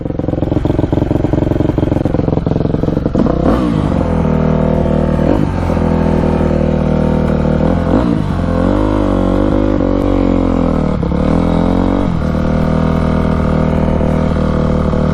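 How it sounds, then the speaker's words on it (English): A racing dirt bike engine idles loud and close, blipped by several sharp throttle revs that rise and fall at intervals over a constant buzzing run, with no talk. "Alright, this bike's all warmed up."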